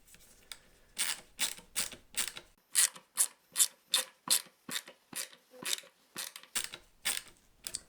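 Screwdriver driving a screw into wood to hang a guitar neck on a Stratocaster build, a quick series of about fifteen sharp ratcheting clicks and turns in a steady rhythm, close and isolated with no talking.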